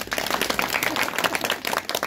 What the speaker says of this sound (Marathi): एकदा टाळ्या वाजवा बरं माझ्यासाठी.